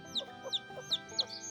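A chicken chick caught in a net gives a string of about five or six high, thin peeps at a steady pace, fairly close and clear, with no talking.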